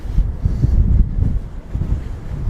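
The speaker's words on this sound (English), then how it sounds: "this is so windy, I'm going to lose my hat." Strong wind blowing downtown Toronto on a cold Friday evening, a loud continuous low rumble of gusts buffeting the microphone, rising and easing slightly without pause.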